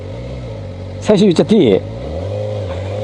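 Kawasaki ZX-4R motorcycle engine, a loud, close burst of rising and falling revs lasting under a second over a steady idle-like drone, with someone speaking briefly.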